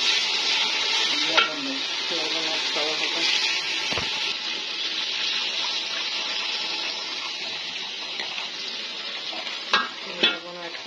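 Pulao cooks in a pan with onion, cinnamon and ginger garlic paste, giving a continuous sizzle with scattered spoon scrapes and stirring knocks, plus a few brief clatters near the end.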